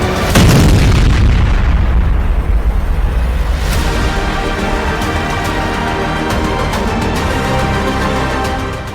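Missile and drone strikes exploding, a massive close boom at the start followed by a long rumbling roar and scattered crackling blasts, loud and sustained throughout with no voices.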